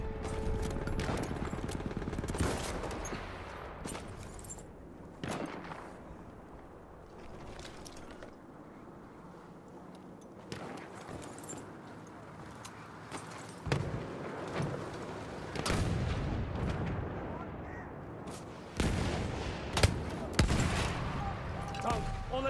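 Artillery fire in Battlefield 1, with a series of loud, sharp booms and blasts at irregular intervals over a rumbling battlefield background, mixed with intermittent talk.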